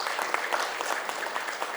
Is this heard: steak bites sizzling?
no